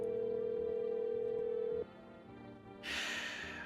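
In-game phone tones from a phone roulette feature: a steady electronic dial tone holds for nearly two seconds and cuts off, then after a brief pause a hissy burst of static or line noise begins, all fairly quiet.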